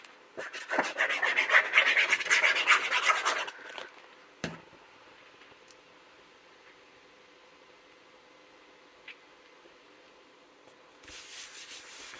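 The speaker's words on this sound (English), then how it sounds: "So I'm going to burnish this." Paper being burnished by hand onto a pocket of a Graphic 45 scrapbook album, giving close, dry rubbing and scraping strokes for several seconds, then small faint handling noises and a brief rustle near the end.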